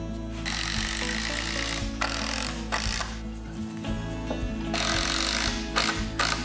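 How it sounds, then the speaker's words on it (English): A power driver sinks screws through thick pallet boards into the front of a wooden kicker jump, making several loud, close whirring bursts with short pauses between them and no talk. "I'm going to screw 2 of these thicker boards to the front,"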